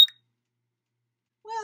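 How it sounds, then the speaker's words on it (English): A short bright electronic beep at the start, followed by silence, then a faint harmonic tone or voice rising at the end. "If I hit a wrong answer, it goes beep."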